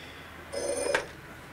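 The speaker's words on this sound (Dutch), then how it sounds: "Nee, Marianne, geen telefoon heb ik je gezegd" A telephone rings once in a Dutch radio play, a short bright electronic trill in the middle of the clip, fairly close and alone with no voices over it.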